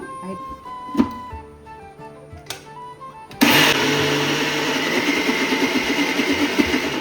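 Mixer grinder starts abruptly and runs steadily, grinding coconut pieces for a Mangalorean pathrode paste, loud and close with a dense whirring roar after a few quiet kitchen knocks and clatters.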